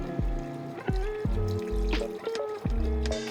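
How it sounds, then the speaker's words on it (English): Milk and heavy cream poured into a pot while being whisked for baked macaroni and cheese, giving a steady liquid pour with repeated rhythmic whisk scrapes and clinks against the pot, close and fairly loud. "you're going to whisk in your milk and heavy cream, continuously stirring as you're pouring."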